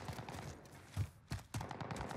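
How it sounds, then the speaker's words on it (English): Distant gunfire in the video game Modern Warfare Warzone, a few quiet bursts of shots popping over muffled game ambience, faint and scattered. "Getting shot from hill"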